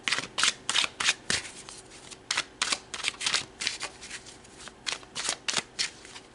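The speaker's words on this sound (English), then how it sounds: "So let's pull some more cards." Tarot cards being shuffled by hand in rapid bursts of riffling and slapping, close and loud, with brief pauses between rounds and no talking.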